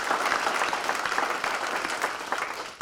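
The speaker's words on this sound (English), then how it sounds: "give them a round of applause" An awards-ceremony audience applauds school faculty and staff, a dense and steady crowd clapping at close range with no pause.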